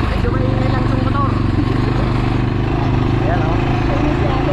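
A quad bike engine runs on the Lancelin sand dunes, a loud, steady mid-pitched drone with a fast rhythmic chug that holds close and constant the whole time.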